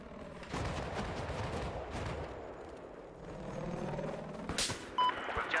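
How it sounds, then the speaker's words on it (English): Sniper gunfire in a video game, a steady stream of distant shots and rattling fire with a louder sharp crack near the end, no talk. "They're shooting at me now."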